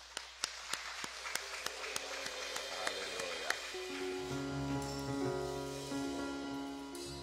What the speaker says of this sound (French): Applaudissons nos jeunes.